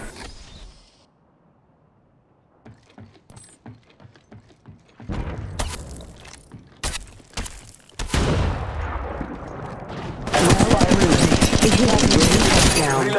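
Gunfire in the mobile shooter Apex Legends Mobile: scattered single shots build into dense, loud automatic bursts and sustained rapid fire, with game voice callouts mixed in.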